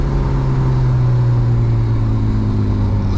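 A manual BMW E36 328i with a loud exhaust drops into fourth gear, its engine droning steady and close with a slowly shifting pitch throughout.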